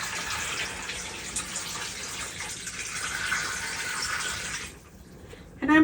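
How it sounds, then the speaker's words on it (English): Tap water pouring into a pot of chicken feet, a steady close hiss and gush for nearly five seconds that stops abruptly, followed by a brief clatter at the end. "So we're just going to fill this up to the top of the chicken feet."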